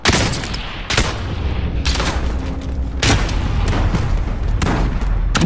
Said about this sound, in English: I just threw a bomb, right?